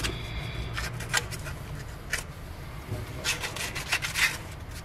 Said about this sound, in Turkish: Devir daimi takmadan önce güzelce etrafını zımparalıyoruz.